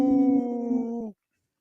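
A person imitates a wolf howl, one sustained steady tone with layered harmonics, loud and close, ending abruptly after about a second.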